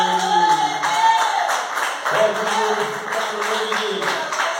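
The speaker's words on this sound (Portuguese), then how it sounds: "Pode aplaudir a Ele." A church congregation claps together in a steady, continuous wash of applause filling the sanctuary, with voices and tonal sound from worship carrying underneath.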